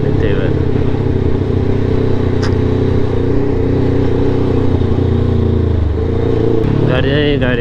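Dense road traffic in Japan, with many cars and motorbikes passing close by as engines hum and rev steadily throughout, and a voice speaks briefly over the noise.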